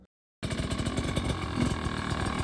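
A motorcycle engine snaps on after a short silence and holds a rough, buzzy, pulsing drone close up during a foot plant pivot turn, without speech.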